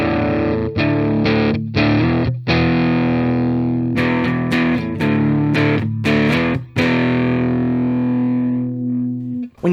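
Electric guitar played through a Sofadio overdrive/booster pedal with a gritty, older-style distorted tone, loud sustained chords broken by several sharp strums and brief pauses, no talking.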